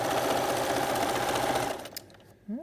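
A sewing machine stitches a long rope coil into the base of a bowl for raising bread, humming steadily with a fast rattle, then slowing and stopping near the end.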